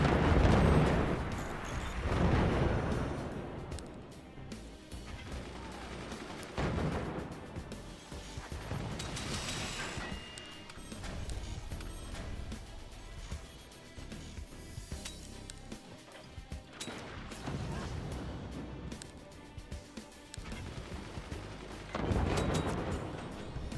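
Artillery weapons in the strategy game Forts fire in repeated heavy booming bursts, loud crashing blasts rolling one after another with short lulls between volleys.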